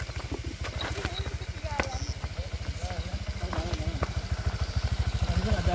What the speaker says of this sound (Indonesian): Ini ada yang lewat motor ya?